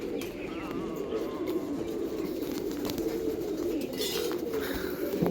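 Pigeons from a loft of about three hundred birds coo steadily in a low continuous murmur, with faint chirps and wing sounds over the flock.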